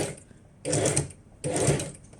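A strong-motored sewing machine stitches fabric during a clothing alteration, running in two distinct bursts of rapid, whirring stitching separated by a short pause.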